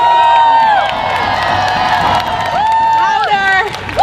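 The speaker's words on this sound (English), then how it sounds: "A round of applause for our students at Occupy Beinecke." A crowd at a Palestine march cheers and whoops for the student occupiers of Yale's Beinecke library. Loud, sustained shouting with rising whistle-like cries comes through a voice on a loudspeaker.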